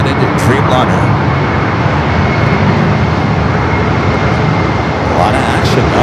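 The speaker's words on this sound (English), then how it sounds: "We got another 2 heavies heading our direction here. China Eastern, the 777-300ER, followed by United Dreamliner." A China Eastern Boeing 777-300ER jet airliner approaching at Los Angeles airport gives a steady, continuous engine roar that fills the whole stretch at a fairly loud, even level.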